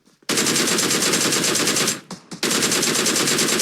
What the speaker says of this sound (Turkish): Bak şimdi DP ile delik deşik edeceğim onu.